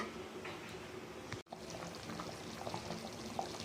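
Spicy ooli meen (barracuda fish) kuzhambu bubbles and simmers in a pot on the stove, a steady close gurgling boil that runs without pause, with no voices over it.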